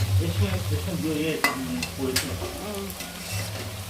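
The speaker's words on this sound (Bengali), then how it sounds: "বেরেস্তার পেঁয়াজ ভাজছি" Onions sizzle in hot oil while being stirred for crispy fried beresta, a close, steady frying hiss punctuated by a few sharp scrapes and clinks of the spatula.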